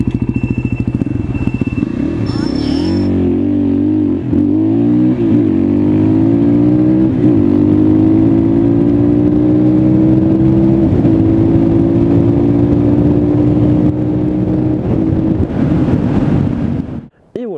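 A KTM 625 SMC supermoto motorcycle pulls away and accelerates hard, its single-cylinder engine note climbing steadily over about fifteen seconds. The sound is loud and close, with heavy wind buffeting on the microphone, and it cuts off abruptly at the end.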